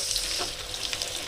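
Battered stuffed tofu fries in a small wok, a dense continuous sizzle with bubbling crackle filling the whole short stretch, close and loud with no voices.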